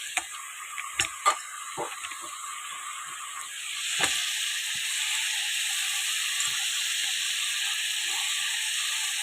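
Chopped washed tomatoes drop into a pan of spicy red cauliflower curry, setting off a few sharp clicks and spatters before a steady broad sizzle and hiss settles in and carries on evenly.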